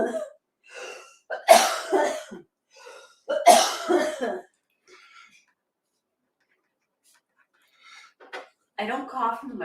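A person coughs twice near the microphone, with sharp harsh bursts between stretches of quiet talking and soft throat noises.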